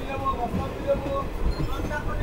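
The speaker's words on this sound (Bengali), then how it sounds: "বন্ধুরা আমাদের ট্রেন ছেড়ে দিল 10টা বেজে 20 মিনিটে বহরমপুর কোর্ট রেলওয়ে স্টেশন থেকে" The 13113 Hazarduari Express pulls out of Berhampore Court station, a low continuous rumble and rolling clatter of the carriages heard from aboard, with a faint murmur of voices underneath.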